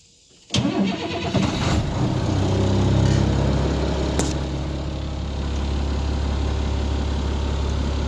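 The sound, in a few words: school bus (skoolie) engine idling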